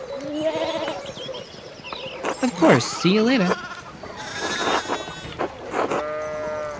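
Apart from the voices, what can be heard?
sheep bleating in the video game Pentiment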